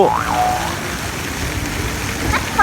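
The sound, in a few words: water fountain spraying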